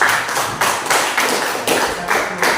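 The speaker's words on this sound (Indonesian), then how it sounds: "kasih tepuk tangan untuk kelompok." A classroom of students clapping for a group, loud and close, with the claps falling into a rhythmic unison beat of repeated bursts rather than scattered applause.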